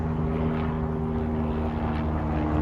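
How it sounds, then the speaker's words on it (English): A helicopter passes overhead during rain on a farm, its steady, loud engine drone and rotor hum filling the air continuously without any speech. "And that's a helicopter."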